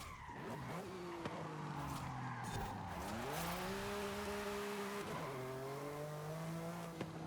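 Race car in a racing video game sliding loose through a corner, tires squealing over a droning engine whose pitch dips and climbs as it scrubs and recovers, fairly close and sustained.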